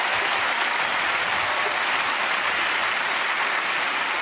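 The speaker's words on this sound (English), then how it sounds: "Just continue applauding if you have one of these names that comes with a little story." A studio audience claps in a dense, steady wash of applause, loud and sustained throughout with no voices on top.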